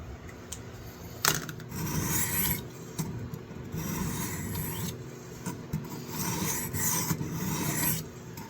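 A serpentine pocket knife blade being ground on 320 grit gives a steady close-up rasping rub, with repeated strokes and brief pauses and knocks.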